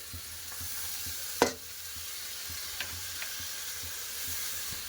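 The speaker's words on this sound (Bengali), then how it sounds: "তো একটু লেড়ে চেড়ে এবার দিয়ে দেবো বাঁধাকপি। ধুয়ে রাখা বাঁধাকপি দিয়ে দিচ্ছি।" Washed cabbage drops into a spiced pan in one sharp thump, and soft stirring follows against a faint steady sizzle. A few light scrapes and taps come later, with no one talking.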